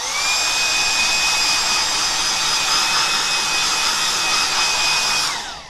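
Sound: hairdryer blowing to dry ink

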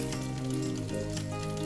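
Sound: fried egg frying in a pan

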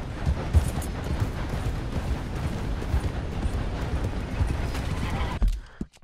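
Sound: horse hooves clip-clopping in Red Dead Redemption II video game

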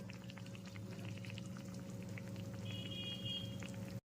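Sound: hot water poured into potato curry

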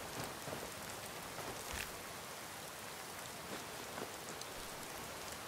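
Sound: rain falling in the video game Skyrim

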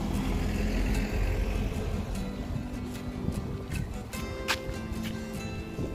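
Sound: car passing on the road

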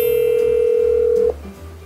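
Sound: telephone dialing tone when placing a call

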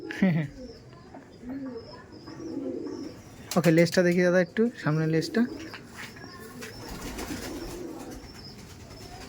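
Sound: pigeons cooing, Iranian Najradam pigeons

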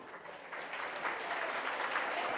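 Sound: audience applause at cooking seminar

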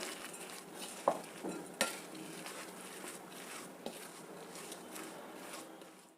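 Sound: mixing avarekalu snack batter with salt

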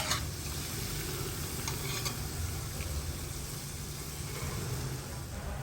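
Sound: banana jamun (wheat flour dough) deep-frying in oil

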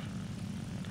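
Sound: fighter plane propeller engine in War Thunder video game

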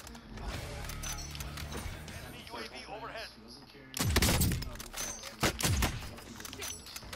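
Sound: gunfire in video game Call of Duty Warzone

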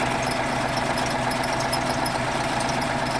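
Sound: MAN 260 hp diesel engine idling on T-150 tractor

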